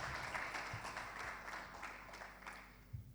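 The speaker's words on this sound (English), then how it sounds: "Let's give a round of applause to these students." Audience at a Cambridge certificate award ceremony claps for the students, a steady wash of applause from many hands, fairly distant and soft.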